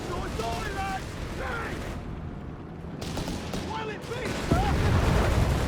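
Artillery fire and gunfire from the video game Company of Heroes 3 rumble and crackle in a busy battle mix, with heavier booms toward the end. A caster talks excitedly over the whole stretch.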